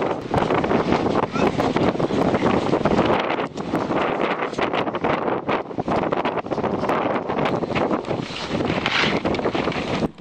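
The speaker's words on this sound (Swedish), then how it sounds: "Se vad det blåser in fint här." Strong wind gusts roar in through an open door, a loud, dense rushing buffet that batters the microphone continuously and swells and dips in strength.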